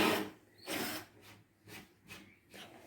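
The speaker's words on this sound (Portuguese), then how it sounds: "a gente vai furar aqui por dentro" Power drill boring holes into a computer desk, a series of short close drill bursts of varying length with gaps between them, no talk.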